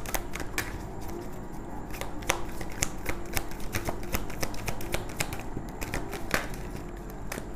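Tarot cards shuffled continuously by hand, a dense stream of close papery riffles and sharp snapping clicks over steady room noise, with no talking.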